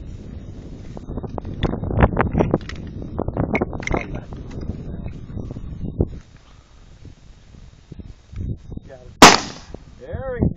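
A single sharp gunshot cracks out near the end during outdoor target practice at a wooden target, loud and close, after a stretch of people talking over gusty wind noise.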